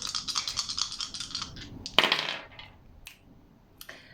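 Dice shaken and cast onto a surface for a tarot-style reading, a quick flurry of small hard clicks and rattles followed by a sharper clatter, then scattered lighter taps, close and alone.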